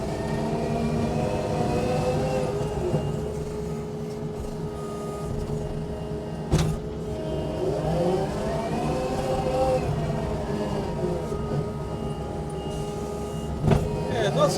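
A Takeuchi TL12 R2 compact track loader drones steadily while leveling dirt, its hydraulic pumps and track drives humming and whining, rising and falling with a few sharp knocks, and a person talks over the machine.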